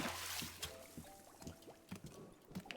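Water being dumped out in the cozy game Wanderstop trickles and splashes in short, soft pours, quiet and close, with a few brief chimes of game sound mixed in.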